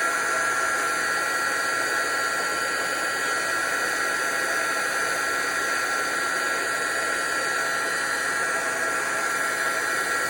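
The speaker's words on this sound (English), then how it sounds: "I'm going to dry it with my heat embosser" A heat embossing tool blows steadily while drying a handmade card, a constant loud hiss-whir that holds evenly throughout with no talking.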